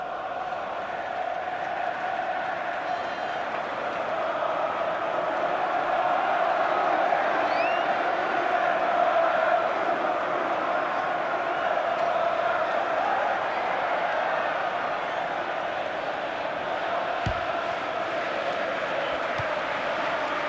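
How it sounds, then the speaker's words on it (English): Football crowd in the FIFA 15 video game, a Premier League match between Everton and Southampton, sending up a steady, dense roar of cheering and chanting throughout, with no commentary over it. "they're cheering them across the finishing line, aren't they?"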